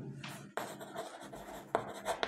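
A pen or pencil scratching across paper while a number is written out in words, with short strokes and pauses, close and quiet.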